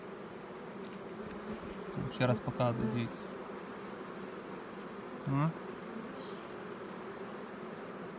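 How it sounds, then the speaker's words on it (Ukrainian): Carniolan honey bees hum steadily around an open hive in a calm apiary, a dense continuous buzz close by, while someone speaks briefly in two short stretches. "Такою бджолою приємно працювати. І мед носить, і миролюбно."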